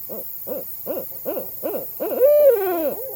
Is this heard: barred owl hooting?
yes